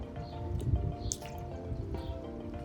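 Tie-dye liquid drips through fabric in soft, irregular wet taps and squishes, close and quiet, with a few faint splats standing out over a low background hum.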